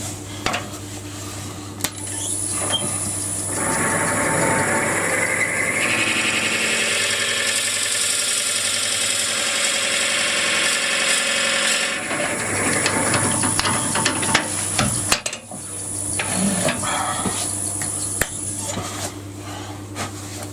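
A steady mechanical whine grinds on, rising into a louder, rougher drone of a 30mm drill bit biting into wood for several seconds before easing off.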